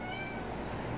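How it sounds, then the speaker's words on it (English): A cat meows outdoors in the snow, a single drawn-out, fairly faint cry heard alone. "Kitties! Come on, kitties! Kitties!"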